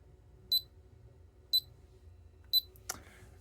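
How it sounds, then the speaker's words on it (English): A PowerG+ flood sensor's test buzzer gives three short, high-pitched electronic beeps spaced about a second apart, close and clear in a quiet room, followed by a soft click. "This will then start beeping."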